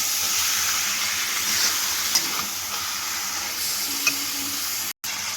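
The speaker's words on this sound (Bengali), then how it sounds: "এবার সব কিছু মশলার সঙ্গে ভালো করে চিকেনটা কষাবো" Marinated chicken stir-fried with spices in a pan sizzles in a loud, steady hiss, with a few faint scrapes of stirring, close up and continuous until a brief cutoff near the end.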